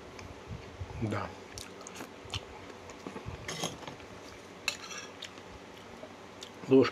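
A spoon and fork clink and scrape against dishes of squid in oil with herbs in scattered light taps, with soft chewing sounds and quiet talk in the background.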